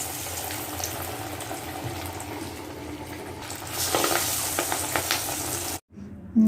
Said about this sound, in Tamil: இது எண்ணெய் காஞ்சிச்சு, வடை ரெடி ஆகுது